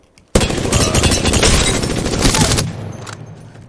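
A rapid-fire burst from a gun fitted with a select fire receiver in Apex Legends, loud and close, a dense rattling volley lasting a little over two seconds before trailing off, with no talking.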